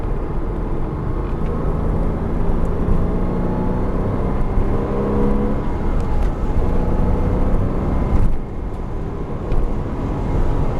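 A car drives steadily through its gears, with an engine drone that holds fairly constant and changes pitch slightly at shifts, heard close and alone without talk.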